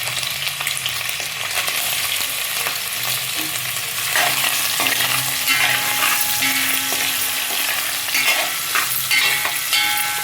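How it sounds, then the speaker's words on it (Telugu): Cut paneer cubes fry in hot oil for a biryani, a steady close sizzle with occasional spatula scrapes and clinks against the pan. "ఈ యొక్క కట్ చేసినటువంటి క్యూబ్స్ని ఆయిల్ వేడింది కదా దీంట్లో వేసి కాసేపు రోస్ట్ చేసేసి పక్కన పెట్టుకోండి"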